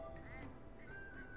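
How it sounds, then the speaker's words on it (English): A duck quacks in the video game Gravity Rush 2, a few faint nasal calls set against a steady bed of game ambience and music. "If you hear a duck, search the vicinity."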